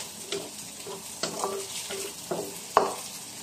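Laing, taro leaves cooking in a pan, is stirred with a utensil that scrapes and knocks against the pan in several distinct strokes over a steady close sizzle.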